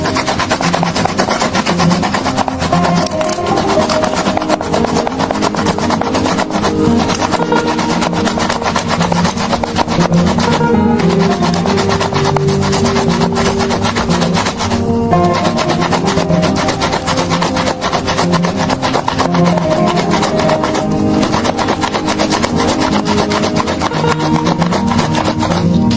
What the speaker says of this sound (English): with a grate or shredder, shred the tomato like so.